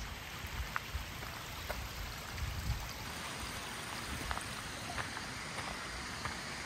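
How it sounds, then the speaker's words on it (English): A small waterfall in the Lake District near Grasmere gives a steady, even hiss of rushing water with faint splashes, heard from a moderate distance and with no voices. "Small waterfalls."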